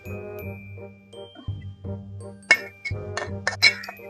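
Maggi noodles cooked with Sting are tipped into a bowl, making clinks and light metallic taps against the dish in an irregular series of close, sharp knocks, with no talking.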